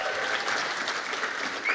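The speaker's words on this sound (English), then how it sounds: "Can we have a round of applause?" A conference audience at PyCon Australia applauds in a steady, dense wash of clapping that holds through the whole moment without any talk.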